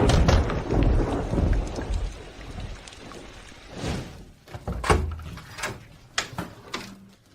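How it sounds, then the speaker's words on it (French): Heavy rain falls outdoors with a dense hiss, broken by rumbling thunder early on and several sharp, loud bursts like close thunderclaps or splashes later, with no speech. "Il pleut dehors."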